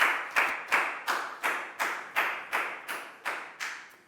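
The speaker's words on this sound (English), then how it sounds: "Big round of applause for Prau" A group of students in a classroom gives a round of applause: eleven or so evenly spaced, sharp claps in a steady rhythm, close and clear with no talking.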